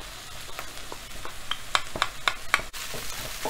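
Ginger garlic paste frying in a pan gives off a soft sizzle, with several sharp clicks and clinks of a spoon against the pan over a quiet background.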